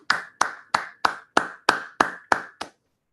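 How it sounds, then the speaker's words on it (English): Nine crisp, evenly spaced hand claps at a Toastmasters club meeting, close and fairly quiet, each clap ringing briefly before the next, ending abruptly. "let's have a huge round of applause for all of us"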